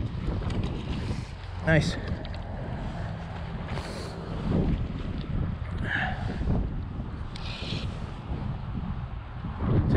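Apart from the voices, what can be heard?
wind blowing while fly fishing in winter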